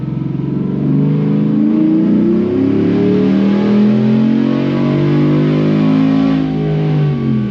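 A Chevrolet L83 V8 on a dyno, running on E fuel, revs hard through a tuning pull, its loud sustained roar climbing steadily in pitch and holding near full throttle with no talk over it.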